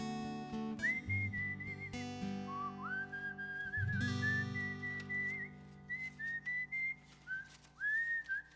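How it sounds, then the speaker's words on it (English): A person whistles a melodic tune in clear, sustained phrases, some notes sliding, with short pauses between lines near the end. "This is how you whistle, kids."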